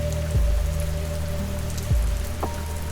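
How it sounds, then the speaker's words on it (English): Rain falls steadily and softly against a window glass, a constant gentle patter with faint low tones beneath, quiet and close throughout. "the comforting sound of rain upon the window"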